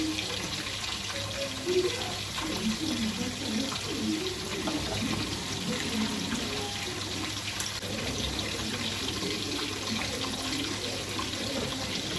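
Water pours steadily into a cooking pot, a continuous trickling stream running for several seconds at moderate volume, with faint low-level voices in the background.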